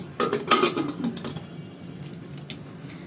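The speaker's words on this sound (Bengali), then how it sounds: "প্রেশারে ঢাকনাটা লাগিয়ে দিব" A pressure cooker lid set onto a pot of dal with turmeric and salt gives a few close metallic clanks and clinks in the first second and a half, then a quieter rattle later, with no talking.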